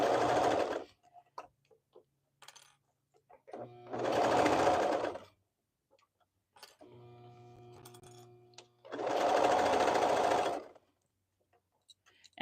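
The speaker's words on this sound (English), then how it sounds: "And then I can start sewing." A sewing machine stitches a tunic in three loud, even runs of a few seconds each, close to the mic. Quiet ticks and handling sounds sit between the runs, with a faint tonal hum in one gap.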